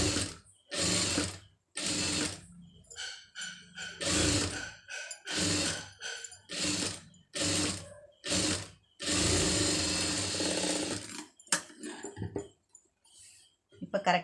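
A sewing machine stitches a scallop border on a blouse sleeve, running in many short, choppy bursts with quick stops between, close and clear, with someone talking in between some runs.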